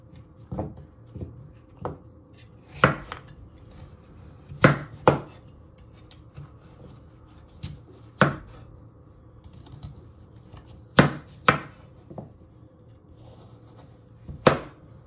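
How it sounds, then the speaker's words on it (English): Butternut squash being chopped with a sharp knife on a board for winter vegetable soup, a dozen or so sharp knocks and cuts at an uneven pace, close and clear with faint handling sounds between. "Must be careful you don't cut yourself with the sharp knife."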